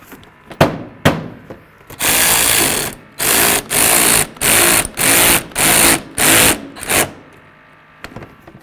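A power tool drives a bolt into the headlight assembly of a 2008-16 Chrysler Town & Country, whirring in one long run and then about six short bursts, loud and close, framed by a few sharp clicks and taps.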